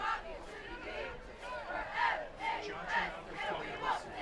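Spectators cheer and shout at a Montville High School football game at night, a broad crowd roar with repeated swelling yells rising and falling every half second or so, steady and fairly close.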